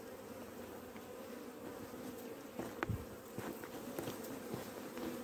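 Honeybees swarm around an opened beehive during the season's first hive inspection on the coast, a steady dense buzz close by with occasional faint knocks from frame handling, no talk.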